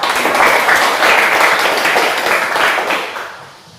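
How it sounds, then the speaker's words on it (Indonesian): An audience in a teacher training class applauds a group, a loud burst of many hands clapping together that holds steady for about three seconds before fading away. "mari kita beri tepuk tangan sekali lagi untuk kelompok"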